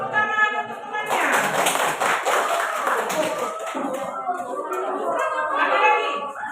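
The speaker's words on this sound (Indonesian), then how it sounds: "Tepuk tangan untuk temannya." A classroom breaks into brisk applause for a classmate, a burst of many hands clapping that fades into scattered claps, with children's and a teacher's voices around it.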